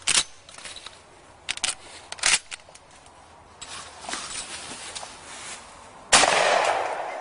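Gunfire in the video game Massacre at Columbine: several sharp single shots spaced irregularly, followed by a louder, noisier burst near the end.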